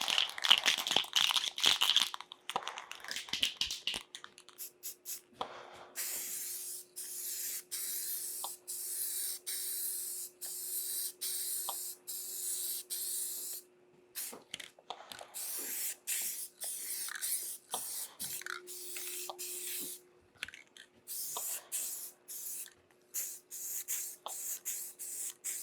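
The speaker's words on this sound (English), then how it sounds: "I just sprayed that with the textured when I meant to start with the primer" Textured spray paint hisses from an aerosol can onto a cutaway spaceship model in bursts, with short pauses, rattles and handling noises between them, close and fairly loud.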